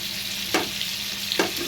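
Pointed gourd (patol) slices fry in oil over low heat, giving a steady soft sizzle with two brief louder stirring scrapes, close and alone without talk.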